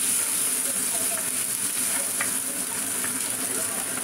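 Sliced bitter gourd (ampalaya) fries steadily in a pan for ginisang ampalaya, a close, even hiss that holds throughout with occasional soft crackles and stirring scrapes.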